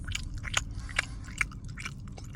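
Close, crunchy chewing bites of a snack bar repeat in a quick irregular rhythm, each a short crisp crackle, with no talking.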